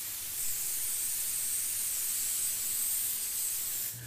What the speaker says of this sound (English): So let's put our first coat of base on this aspirator.